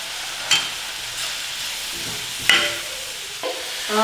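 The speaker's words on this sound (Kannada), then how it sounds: "ಈರುಳ್ಳಿ ಚೆನ್ನಾಗಿ ಗೋಲ್ಡನ್ ಬ್ರೌನ್ ಕಲರ್ ಬರೋವರೆಗೂ ಹುರ್ಕೋಬೇಕು" Onions and curry leaves frying in a pan for a garlic egg dish, with a steady soft sizzle and hiss broken by a few sharp stirring clinks of a spoon against the pan, close by.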